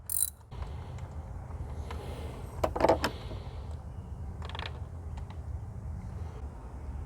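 A 3/8 ratchet turning counterclockwise to loosen a spark plug on a BMW Z3 engine: a brief, faint cluster of creaking mechanical clicks midway, close by, over a low steady background hum.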